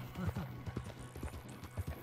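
Hooves clip-clop in a steady trotting rhythm as a horse is ridden in Red Dead Redemption II, with a voice talking over the hoofbeats.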